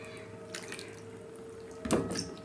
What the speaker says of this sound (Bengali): এটা আমি ভালো করে ধুয়ে নেব।